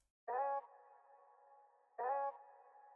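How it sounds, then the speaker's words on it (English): Two identical harmonic stabs chopped from a folk sample, each a loud attack fading into a sustained tone, repeating about every two seconds in a sparse, simple loop with no voices. "we got a simple folk sound that I just chopped up and made a very basic rhythm"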